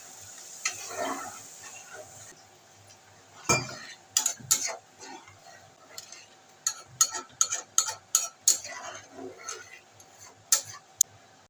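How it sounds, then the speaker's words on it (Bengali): A mixing jar is rinsed, then the spiced water is poured into a pot of fish curry, ending in a run of sharp metallic clinks and taps of utensils against the pot, close and fairly loud. "একটু জল দিয়ে দেবো মিক্সিং জারটা ধুয়ে মশলা ধোয়া জল"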